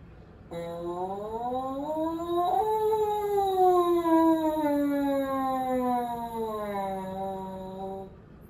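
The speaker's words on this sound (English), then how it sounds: "we need to review our mouthpiece sirens. Remember, they go from low to high to low." A brassy buzzing French horn mouthpiece siren glides smoothly from low up to high, then slowly slides back down low in one long continuous sweep.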